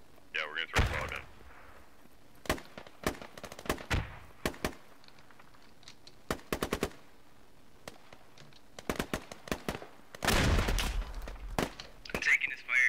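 Gunfire in the military shooter video game Squad: scattered sharp shots, some near and loud, others distant, in irregular bursts, with a heavy rumbling volley near the end and voices talking over radio.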